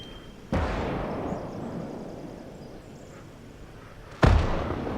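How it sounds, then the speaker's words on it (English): Artillery fire in a modded war video game: two heavy booms, one early and one near the end, each a sudden blast trailing into a long rumbling decay. "that's my guy shooting back at the enemy artillery"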